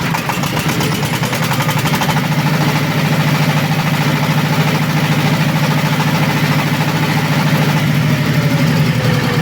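A homemade tractor engine runs steadily at full throttle, a loud, continuous mechanical drone with a constant pitch that holds for the whole stretch, close by and with no talk.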